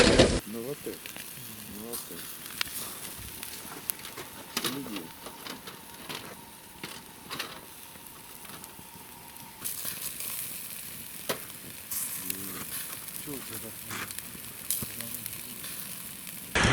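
A campfire at an outdoor fishing trip crackles and hisses steadily for over fifteen seconds, with dense snapping pops close by and people talking over it.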